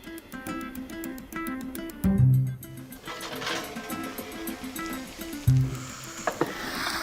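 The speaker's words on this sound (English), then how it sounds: "I would serve that just as it is while it's still bubbling and squeaking and making lots of noise" Baked macaroni fresh from the oven bubbles and squeaks, with rapid ticking pops and a couple of louder hissing bursts, close and fairly quiet.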